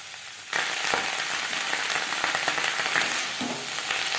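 Sliced onion stalks fry in hot oil over a high-to-medium flame, a dense, continuous crackling sizzle that starts abruptly and holds steady and close throughout.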